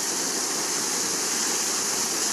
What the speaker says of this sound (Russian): Вот такой великолепный фонтан.